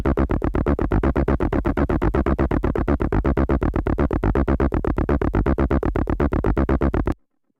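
Roland TB-303 bass synthesizer run through an echo effect, a loud, steady stream of rapid sequenced notes pulsing evenly for about seven seconds and then stopping abruptly, with no talking.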